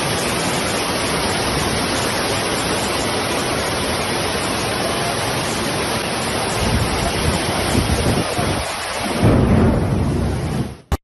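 A heavy Cape Town storm roars with dense, continuous rain hiss and deep rumbling thunder, loud and steady throughout before a surge near the end cuts off sharply; no voices.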